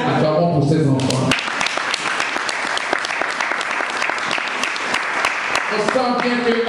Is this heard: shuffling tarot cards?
no